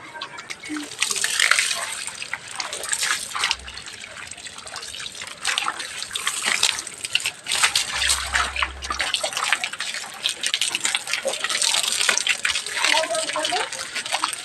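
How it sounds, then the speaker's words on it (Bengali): Water from a pipe splashes and trickles onto fresh brick masonry, a steady close wet hiss that runs throughout beneath people talking nearby. "ওই যে পাইপ দিয়ে আমি এখন গাঁথনিগুলোতে একটু জল দিই"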